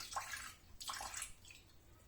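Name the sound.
tipping liquid out of a fermenting vegetable jar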